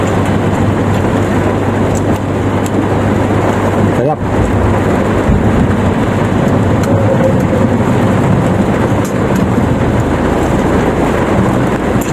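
Steady, dense broadband hiss of heavy rain pouring continuously, with a brief dip in the noise partway through.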